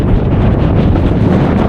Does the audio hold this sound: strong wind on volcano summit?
yes